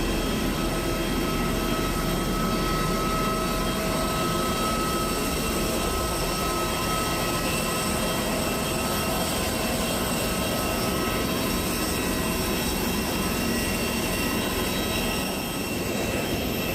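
Airplane engine roar on a Vijayawada to Hyderabad flight, a loud constant broadband rush and whine that fills the whole stretch without letting up, no talking.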